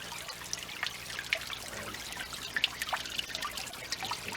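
Water trickles steadily from a water tank into a garden pond, a soft continuous dribble with scattered light splashes and drips, fairly quiet and even throughout.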